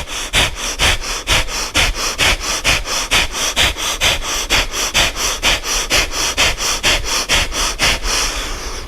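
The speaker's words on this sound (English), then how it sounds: "add the breath of fire" Breath of fire yoga breathing, rapid forceful nasal exhalations pumping in an even fast rhythm, about three per second, loud and close, no speech.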